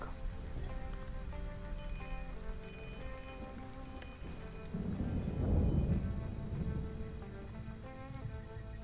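Steady rain falls in the survival game Stranded: Alien Dawn, a soft wash of drops under quiet game music, swelling briefly louder midway before settling back.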